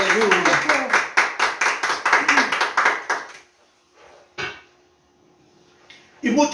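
A church congregation claps hands in a steady, loud rhythm for about three seconds, then stops, leaving near silence broken by a single sharp knock.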